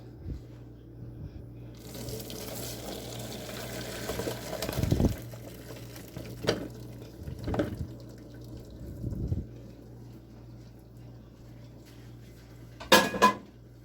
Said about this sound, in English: Now I'm just going to just throw this in the strainer right here.